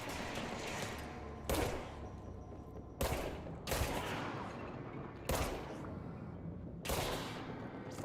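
Gunfire from the Grip service weapon in the video game Control, sounding as five loud, close shots spaced about a second and a half apart, each with a decaying tail over a steady background rumble.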